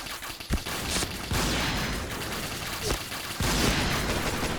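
Rapid bursts of gunfire from the online shooter Point Blank, with an HK-416 assault rifle firing at long range, sounding loud and close in several clustered volleys as someone talks over them.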